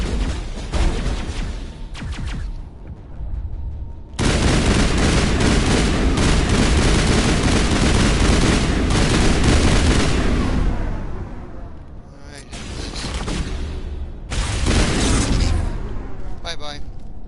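Sustained, loud gunfire in the video game Mass Effect Legendary Edition, with dense bursts of rapid shots and booming impacts that pause briefly and resume, heard up close with talking now and then.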